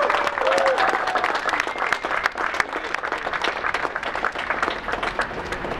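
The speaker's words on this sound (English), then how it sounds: "Give them a big round of applause." Audience applause at a ribbon cutting for 4 City Brewing Company, dense steady clapping from a crowd sustained throughout, with a few voices faintly mixed in.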